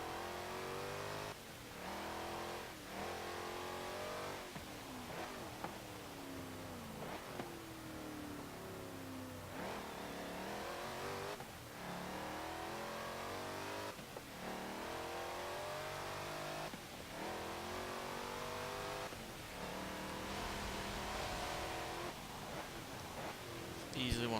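A 2018 Honda Odyssey minivan accelerates down a straight in Forza Motorsport 7, its engine revving up in repeated rising sweeps punctuated by gear shifts, steady and moderately loud throughout.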